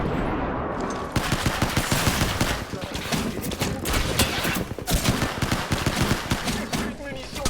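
Dense, rapid automatic gunfire and bursts of shots from the video game Apex Legends, loud and nearly continuous, with someone speaking at times over the barrage.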